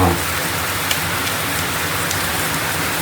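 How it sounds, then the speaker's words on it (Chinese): Steady rain pours outside on a typhoon day, a dense continuous hiss of drops on surfaces, evenly loud and unbroken throughout with no voices. "加上外面背景下雨的话"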